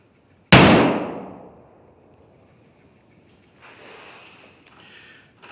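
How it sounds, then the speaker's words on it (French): A single loud shot from a Savage Axis .308 rifle fired indoors cracks sharply and then rings and echoes as it decays over about a second. Faint shuffling sounds follow later. "premier tir avec la 308"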